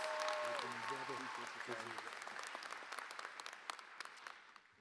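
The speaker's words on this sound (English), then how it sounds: "let's make some noise and give an applause to Earl Edwards" An audience applauds at a UC San Diego Harambee achievement ceremony: dense, steady clapping that starts loud over a brief voice, then gradually thins and fades toward the end.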